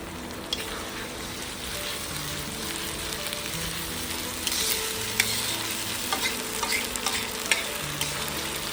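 Ginger, green chili and garlic sizzle steadily in hot oil with browned onions in a pan for ghugni made with mutton fat, a constant fry with occasional soft clicks of stirring.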